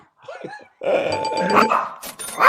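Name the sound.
dog barking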